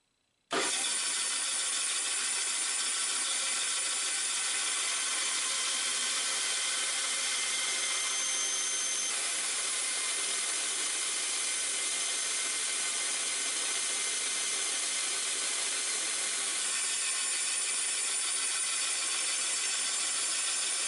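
A power tool trims and rounds the corner of a wooden chef's knife handle, remaking an Ontario Knife Company short chef's knife. It starts abruptly and runs as a loud, steady whine for about twenty seconds with no talk.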